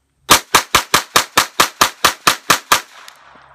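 A Ruger .22 pistol firing CCI 22LR Short Range Green 21-grain hollow point rounds: eleven sharp, loud shots in a fast, even string, with a faint ring-out after the last one and no talking.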